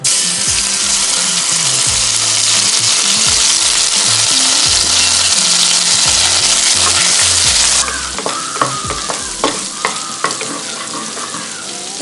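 Ginger garlic paste dropped into hot oil for a vegetable biryani, a loud, dense sizzle that suddenly drops to a quieter crackle, followed by scattered stirring clicks close at hand.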